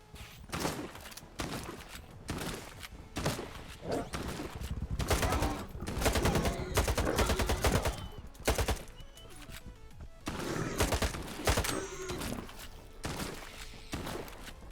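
Bursts of rapid gunfire from the video game Stalker 2, loud and dense with repeated volleys and brief pauses, filling the whole stretch.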